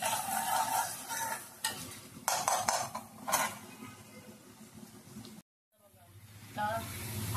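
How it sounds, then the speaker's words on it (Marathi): Onion frying in oil in a pan, stirred with a utensil that scrapes and clinks against the metal under a steady sizzle, with a brief silent gap before the stirring resumes. "मस्तपैकी खमंग असा कांदा या तेलामध्ये फ्राय करून घेणार आहे।"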